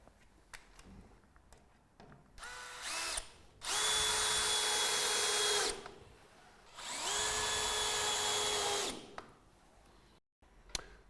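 A power drill fixing a batten back down during a Velux top-hung roof window install. It runs in two loud, sustained bursts of about two seconds each, with short lead-in whirs and light handling knocks between, close by, with no speech.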